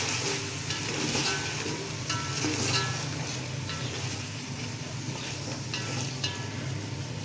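Tomatoes and spices are stirred in a hot pan while cooking matar pulao, giving a steady close sizzle with scraping spoon strokes throughout and no talk.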